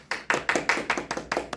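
A few people clap at a school broadcast festival quiz show welcoming a physics teacher as guest, giving brisk, close, evenly spaced claps in a short run with no talking.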